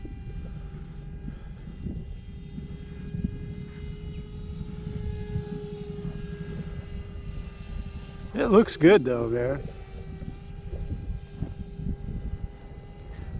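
A radio-controlled F-86 jet model with a 12-blade electric ducted fan whirs steadily in flight at moderate distance, a continuous airy whine with a brief louder swell, while someone talks over it.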